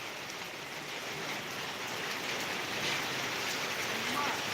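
Rain falling at a town bus stand in Tamil Nadu, a steady dense hiss of drops on surfaces that stays even throughout, fairly soft and distant-sounding.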